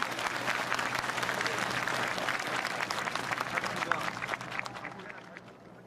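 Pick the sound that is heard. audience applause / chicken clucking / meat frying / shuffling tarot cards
audience applause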